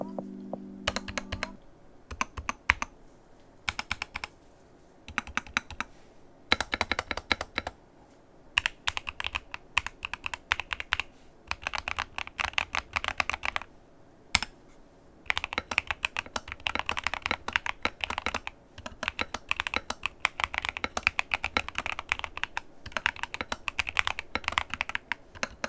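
Rapid clicky keystrokes on an upgraded computer keyboard, typed in quick bursts with short pauses, close and fairly quiet, with no talk over the clatter.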